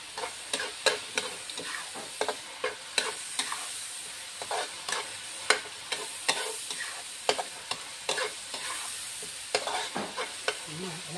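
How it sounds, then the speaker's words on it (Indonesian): Rice paper noodles with chili being stir-fried in a pan: a steady sizzle runs under rhythmic scrapes and clatters of a utensil against the pan, repeating about once a second with no talking. "So kita tumis sampai dia matang ya."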